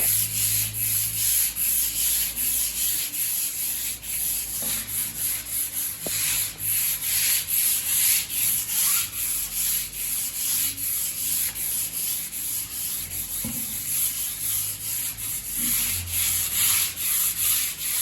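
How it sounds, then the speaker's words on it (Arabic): Steady scratchy sanding of a wooden door with 220-grit sandpaper, continuous rubbing strokes with a few knocks, close and moderately loud, no voices. "بستخدم صنفرة رقمها 220، ببدأ أصنفر الباب بجميع تفاصيله"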